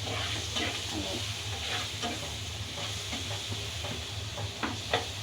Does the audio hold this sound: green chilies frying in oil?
yes